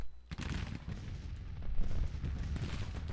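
Artillery fire from a small four-gun battery in a Civil War strategy video game: a dense, continuous rumble of overlapping booms and crackling shots that stays loud throughout, with no voices.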